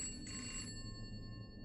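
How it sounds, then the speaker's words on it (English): A landline telephone rings once, a brief electronic trill up close over a steady low room hum, then cuts off and leaves only the hum. "The phone rang."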